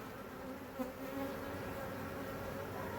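A honey bee swarm buzzes in a peach tree and around a hive box, a faint, continuous droning hum with no break and no voices.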